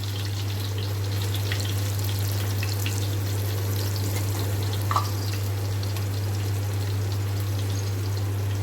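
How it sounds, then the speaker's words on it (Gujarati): Chillies and asafoetida sizzle in hot ghee and oil, a steady broadband frying hiss that runs evenly throughout with a faint low hum beneath and one small clink near the middle, no voices. "મરચાં તે એડ કરી દઈશું। હિંગ એડ કરીશું થોડી।"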